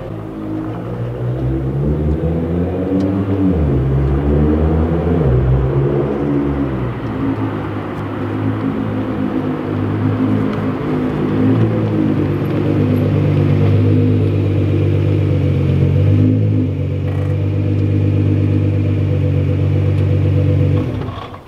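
Car engine running with a low, steady rumble and shifting revs near the microphone, a continuous drone that rises and settles over about twenty seconds, with no talk over it.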